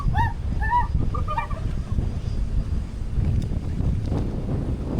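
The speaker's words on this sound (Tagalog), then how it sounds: "Grabe yung hangin." Strong sea wind buffets the microphone at Sawangan Park along Legazpi Boulevard, a steady low rumble throughout, with a few honking bird calls near the start.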